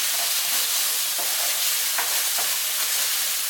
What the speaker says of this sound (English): So in with a tablespoon of Thai green curry paste. Stir that all up.